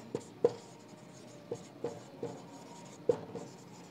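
Handwriting on paper, a quiet sequence of scratchy pen strokes with several sharper taps and short pauses between words, close and isolated.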